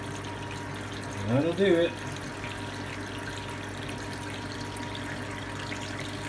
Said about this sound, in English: The sparge water nice and clear on top. About an inch, 2 inches above the grain bed. Filling up the boil kettle.